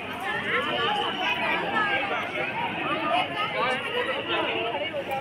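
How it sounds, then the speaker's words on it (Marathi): A dense crowd of devotees at Trimbakeshwar temple, with a continuous babble of many voices and shuffling, close and steady, and a nearby speaker talking over it. "इकडे बघा गर्दी."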